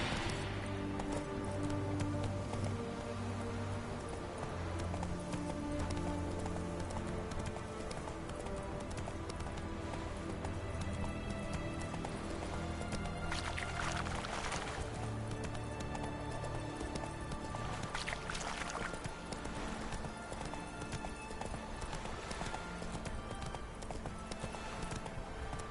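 Hooves of the horse Roach gallop in the video game The Witcher 3, a steady rhythmic clip-clop running throughout over game music and ambience, with occasional faint voices.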